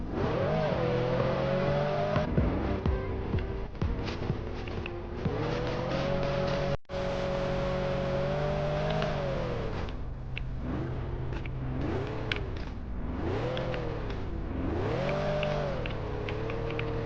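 Race car engine driving and revving alone for a long stretch, loud and close, with steady drone broken by repeated rising and falling revs and gear changes, plus a brief dropout midway.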